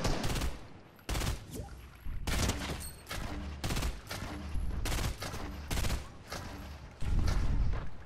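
Video game gunfire in Fortnite: repeated sharp bursts of rapid shots in irregular clusters, loud and close, with brief gaps between volleys and no talk.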